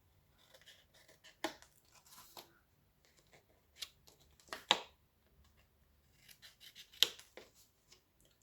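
Scissors snip the corners off sheets of paper for a handmade scrapbook album, several short, crisp close cuts spaced irregularly with quiet paper rustling between them and no talking.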